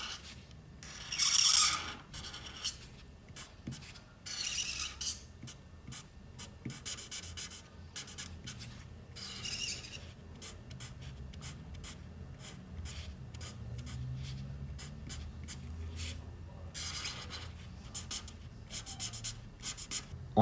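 A colored pencil shades leaves on paper in a drawing of a Fortnite jungle umbrella. Soft, scratchy strokes come in short bursts and pauses, quiet and close.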